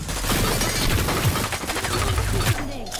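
Rapid bursts of gunfire crackle in quick succession in the battle royale game Hyper Scape, mixed with game effects and a low rumbling background.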